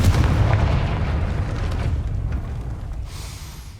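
A Confringo fire spell blast in Hogwarts Legacy, a booming explosive burst at the start that decays into a rumbling tail and fades away, heard alone.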